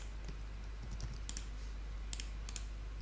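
Someone types on a computer keyboard while entering a command on Windows, a few faint sparse key clicks over a steady low background hum.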